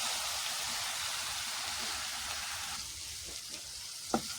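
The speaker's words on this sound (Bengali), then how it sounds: "উল্টে পাল্টে এগুলিকে আমি ভালো করে ভেজে নিব।" Chicken pieces frying in a pan as they are turned, a soft, even hiss of oil that thins out near the end with a single faint clack, heard at a low level.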